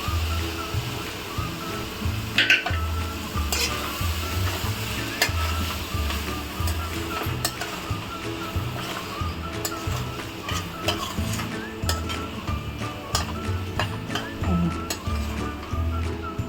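Dal added to hot oil in a pan for a Maharashtrian chana soyabean dish, sizzling and frying steadily throughout with repeated scraping stirs and occasional utensil clicks, close up with no talking.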